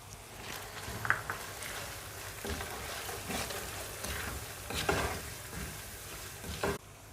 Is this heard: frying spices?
yes